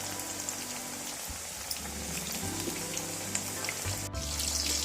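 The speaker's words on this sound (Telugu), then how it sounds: "వర్షం పడుతుంది" Steady soft patter of rain falling, a continuous hiss with scattered drops, fairly quiet and unbroken by voices.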